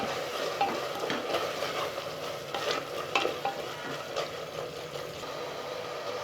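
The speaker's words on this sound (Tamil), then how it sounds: "கொத்தமல்லி கூடவே புதினா போட்டுட்டு நல்லா கலந்துடலாம்." A spoon stirs coriander and mint into biryani masala in a pressure cooker, scraping and rustling in irregular strokes over a steady, soft sizzle of frying.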